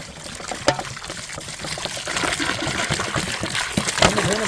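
Water pours and splashes over chopped cabbage and carrots being washed, an irregular trickling and gushing stream with small splashes, close and moderately quiet.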